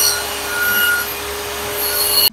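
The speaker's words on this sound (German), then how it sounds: "Ich säge jetzt erneut." Hand saw cutting a wooden back panel for a shelf, a steady continuous rasping stroke close by, running without pause before stopping abruptly at the end.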